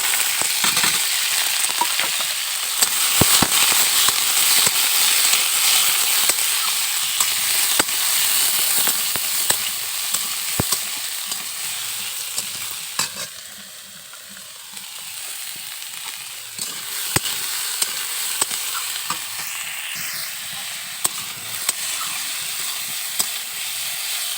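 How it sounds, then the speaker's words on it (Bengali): Steady, loud sizzling of food frying in hot oil, a continuous crackling hiss with occasional sharp pops, fading slightly midway before picking back up. "তো এখন এর মধ্যে দেবো এই সব কিছু আমি একসঙ্গে ভেজে নেব"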